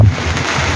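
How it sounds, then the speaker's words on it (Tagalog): Strong wind gusts blow outdoors, with broad roaring buffeting that hits the microphone hard at the start and then continues as a steady close rush. "Lakas ng hangin talaga guys"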